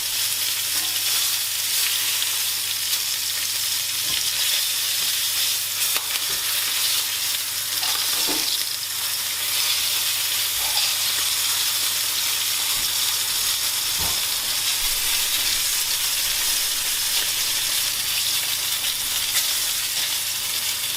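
Seasoned duck pieces frying skin side down in a pan with garlic, a steady close sizzle and crackle of hot fat continuing without pause, with occasional soft clicks and stirs.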